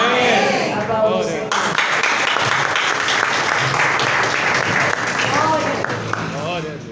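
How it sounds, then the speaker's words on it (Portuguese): Church congregation applauding after a prayer in a worship service, loud sustained clapping from a full room with voices calling out over the top. "Aplausos."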